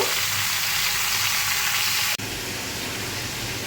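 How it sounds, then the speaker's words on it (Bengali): Mango pieces with salt and turmeric sizzle steadily over high heat while being stirred, a continuous bright frying hiss that breaks off briefly with a sharp click before resuming, slightly quieter. "হাই হিটে দু মিনিটের মতো আমি এটা নাড়াচাড়া করে নিয়েছি নুন আর হলুদ দিয়ে"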